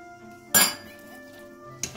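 A spoon clanks sharply against a pot while butter and lemon are stirred into trahanoto, one loud metallic knock followed by a quieter clink a moment later, close and clear.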